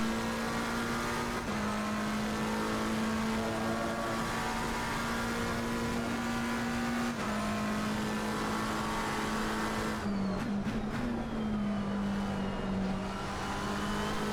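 Race cars lap the Misano circuit in Assetto Corsa Competizione, a loud continuous engine drone held near one pitch, with a brief shift and change in tone late on.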